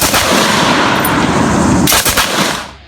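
British Bren light machine gun from World War II firing a sustained, loud burst of rapid rounds that continues nearly throughout, with a short pause and renewed shots near the end.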